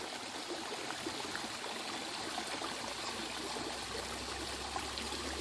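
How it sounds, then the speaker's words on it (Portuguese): Water trickles steadily at a wet river crossing in Jurumenha, a continuous, even stream-like wash with no voices, holding the same level throughout. "Só esse barulho, esse som de água caindo"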